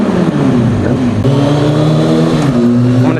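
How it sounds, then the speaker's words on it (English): A motorcycle exhaust roars loud and close, its engine pitch climbing through rising revs with a brief shift-like step partway through, heard from the rider's position on an open road in San Bernardino County. "My exhaust says, what?"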